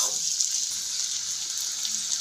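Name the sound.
pouring water from rinsing the mixer jar into the pan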